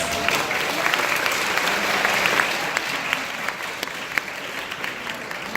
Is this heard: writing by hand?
no